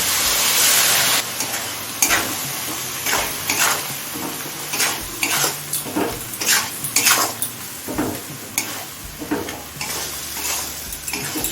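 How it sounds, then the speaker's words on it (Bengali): Chicken and soybean ghugni stirred in a pan with turmeric, chilli powder, salt and a little water: a repeated metal spoon scraping and clinking against the pan over a bright sizzle, close and fairly loud. "সমস্ত মশলা ভালোভাবে সব কিছুর সাথে মিশিয়ে নিয়েছি"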